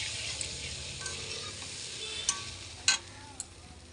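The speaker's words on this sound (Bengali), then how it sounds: "জল দিয়ে এটা এবারে মিক্স করে দেবো" Water being stirred into a hilsa fish curry in a pan, a soft continuous scraping and swishing with a few sharper clinks of the spoon against the pan near the end, close and moderately quiet.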